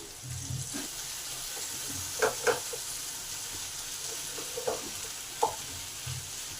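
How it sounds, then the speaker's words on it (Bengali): Potato and pumpkin pieces fry together in a pan, giving a soft, steady sizzle with scattered light pops and crackles throughout, no voices. "আলু আর কুমড়ো একসঙ্গে ভেজে নেবো যাতে কুমড়োর কাঁচা গন্ধটা চলে যায়"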